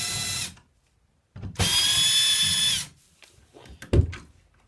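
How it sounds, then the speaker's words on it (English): A power drill unscrews an electrical outlet during a USB outlet install, with two short whirring bursts close by, the second running over a second. Quieter handling clicks and a sharp knock follow. "We'll go ahead and unscrew our outlet."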